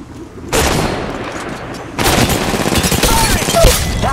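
Rapid video-game gunfire in a squad shooter match, loud sustained automatic bursts starting after a brief quiet moment and intensifying midway, close and continuous.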